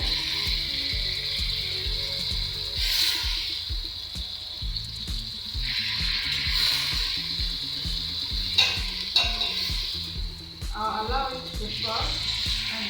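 Chopped tomatoes and pepper frying for noodles with sausages and vegetables, a steady moderate sizzle with occasional stirring clatter, close by, under background music and a brief voice toward the end.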